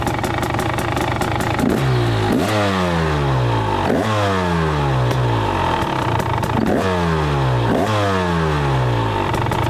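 A 2024 KTM 300 XCW two-stroke dirt bike engine revs hard and loud nearby, rising and falling in repeated sweeps over a steady idle.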